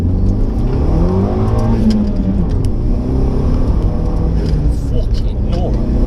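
Close, loud engine of a modified Renault Megane R26 accelerating hard through first and second gear, its pitch sweeping upward and dropping at the shift, with someone speaking over the noise.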